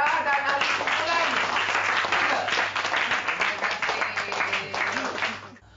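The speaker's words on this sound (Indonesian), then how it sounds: "Tepukkan untuk Farah dan ahli kumpulan." Secondary-school students applaud their classmates during a history lesson, with steady, lively clapping close by that fades out at the end, and voices heard faintly beneath.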